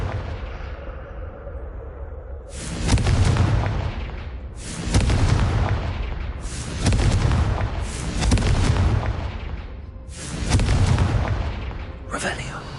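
Confringo fire spell blasts in the video game Hogwarts Legacy: five loud, booming explosions about two seconds apart, each a heavy thud with a crackling tail.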